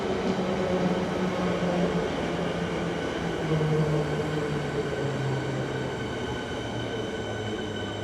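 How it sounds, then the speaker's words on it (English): A suburban train runs through South Yarra station in Melbourne, a loud, sustained rumble with rising and falling wheel tones that slowly fades as it pulls away. "Could have caught that train."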